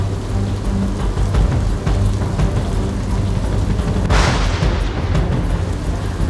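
Heavy monsoon rain pours steadily during flooding in Valsad and Navsari, Gujarat, a dense continuous roar close by with a surge of louder downpour midway and a low rumble underneath.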